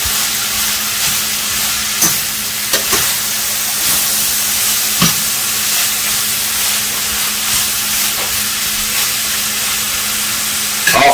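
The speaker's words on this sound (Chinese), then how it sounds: "我们再把这个羊肉倒回锅中啊，再翻炒一下。" Lamb and carrots stir-fried in a pan for lamb pilaf give a steady loud sizzle and hiss, broken by several sharp clinks and scrapes of the spatula against the pan, with no voices.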